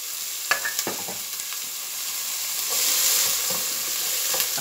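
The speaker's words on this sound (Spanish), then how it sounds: "Bueno, vamos a empezar friendo la cebolla." Onion fries in oil in a small pot, a steady bright sizzle with several sharp stirring clicks and scrapes near the start, no voices.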